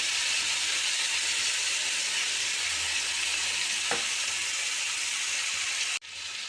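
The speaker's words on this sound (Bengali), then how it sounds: "এবার একদম লো আঁচে চিকেনটা 20 মিনিট রান্না করতে হবে।" Chicken tikka cooking on low heat sizzles with a steady, even hiss throughout, broken by one faint tap in the middle before the sound cuts off near the end.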